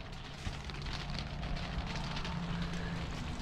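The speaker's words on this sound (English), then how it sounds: "as you can hear, it's raining." Rain falling outdoors in Florida-like weather, a steady dense patter and hiss at moderate distance, continuous and fairly quiet with no voices.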